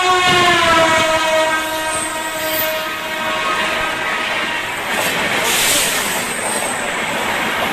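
Shatabdi Express train speeding through Tekal railway station in Kolar, its horn blaring loudly at first over the roar and rattle of the passing carriages, which continue steadily after the horn stops.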